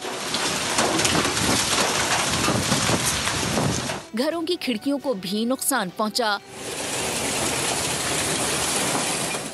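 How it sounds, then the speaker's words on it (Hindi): Heavy hail and rain pound down during a violent storm with high winds in Islamabad, a dense loud roar that drops out while a person talks briefly in the middle, then returns at full strength. "बड़े बड़े ओले गोले बनकर गिरे।"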